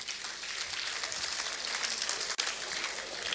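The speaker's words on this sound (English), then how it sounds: "I'd like us to please give him another round of applause" An audience at a formal ceremony honouring Lumumba applauds in a soft, steady wash of many hands clapping, heard at a distance and fairly faint, with a brief dropout near the end.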